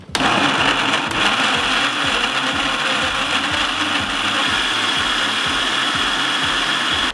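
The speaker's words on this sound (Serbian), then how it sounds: "Zatim sameljite sav paradajz u blenderu." A blender grinding cut tomatoes for a winter preserve, a loud steady whirring motor with a fast rhythmic chopping pulse running unbroken throughout, close and alone.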